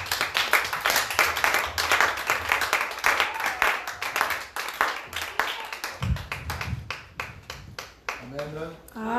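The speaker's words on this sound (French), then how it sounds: "Recevons encore l'homme de Dieu avec les acclamations" A church congregation applauding and cheering at a worship service, rhythmic clapping rising and falling with shouts and a voice over it, fading toward the end as speech takes over.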